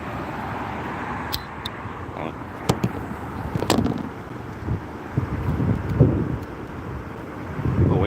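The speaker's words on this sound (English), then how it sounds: "Windy out here." Wind blows outdoors, buffeting the microphone with a constant low rumble and gusts that rise and fall throughout, with brief clicks and handling noise on top.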